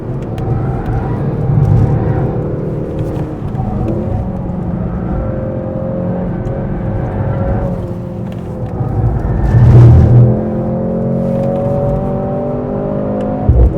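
A Mercedes-AMG C63 S accelerates out of a corner, its engine note rising in long, loud sweeps from inside the cabin, with a brief surge near the end and a steady road rumble underneath.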